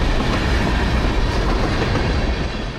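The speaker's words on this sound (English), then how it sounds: "This is a long train." A long train rolls past close by, its wagons producing a loud, steady rumble with a continuous clickety-clack of wheels on rail joints throughout, and no voices.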